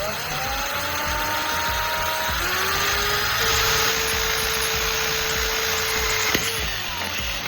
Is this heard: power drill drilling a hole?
yes